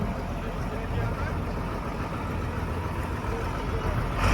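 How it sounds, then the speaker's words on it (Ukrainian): A tractor's steady, rumbling engine drones continuously at close range at an agricultural exhibition, a heavy vehicle motor running throughout without pause. "Трактор буде працювати на четвертій робочій швидкості."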